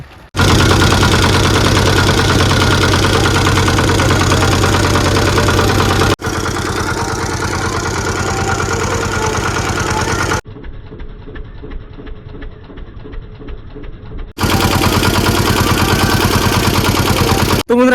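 A fishing boat engine on a Sundarbans river runs loud and close, a constant heavy knocking drone that drops out briefly and returns, with a quieter muffled stretch in between.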